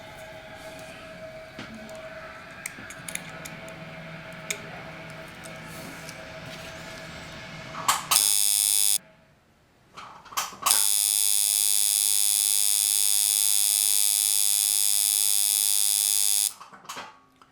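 A color packer tattoo machine runs with a loud, steady electric buzz for several seconds after short bursts and a pause, preceded by quieter background rattling and handling noise.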